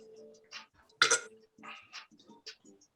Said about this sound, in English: These burps coming in handy.